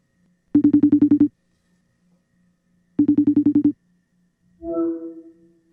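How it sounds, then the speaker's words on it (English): Outgoing phone call ringing, two rapid electronic trill bursts separated by a pause, loud and close, followed by a brief answering pickup tone. "So we're going to phone in Patrick and try and get some updates"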